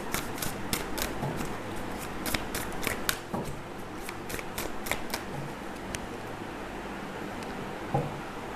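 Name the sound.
splitting a tarot card deck into two parts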